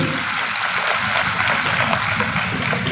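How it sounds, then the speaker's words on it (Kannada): A crowd at a Dasara religious gathering applauds, dense sustained clapping that stays loud and even from start to finish with no talking. "ಒಂದು ಚಪ್ಪಾಳೆ ಹಾಕಿ ನಮ್ಮೂರಿಗೆ ಕೊಟ್ಟಲ್ಲ ಅಂತ ಚಪ್ಪಾಳೆ ಹಾಕ್ಬೋದು"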